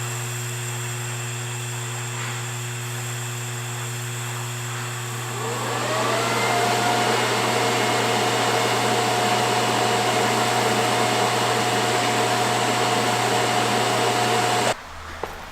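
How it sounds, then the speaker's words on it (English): Steady, loud hiss and hum of welding on an exhaust pipe flange for a turbo LS-swapped Mustang, starting softer and rising into a sustained buzzing drone that cuts off abruptly near the end. "So I'm gonna weld this up totally."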